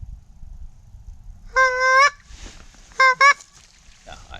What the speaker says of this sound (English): this fucking goose call sucks